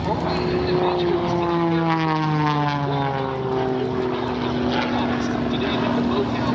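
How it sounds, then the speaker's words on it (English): A helicopter performing aerobatic maneuvers at the EAA AirVenture airshow in Oshkosh, Wisconsin, its rotor and engine droning loudly with pitch shifting as it turns and passes, while an announcer talks over it. "Performing maneuvers in this helicopter that would keep even Igor Sikorsky up at night."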